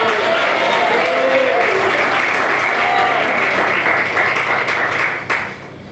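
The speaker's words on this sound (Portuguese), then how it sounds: "Quem bate palmas, glória a Deus." A church congregation claps together in a loud, steady, dense wash of applause that holds for several seconds before tapering off abruptly near the end.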